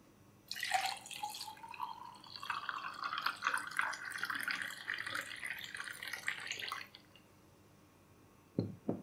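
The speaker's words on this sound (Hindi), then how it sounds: "तो उसमें आप ये आइस क्यूब्स डालें और ये शरबत डाल दें" Sattu sharbat poured into a glass over ice cubes, a continuous liquid stream splashing and gurgling for about six seconds, followed by quiet and a couple of faint clinks at the end.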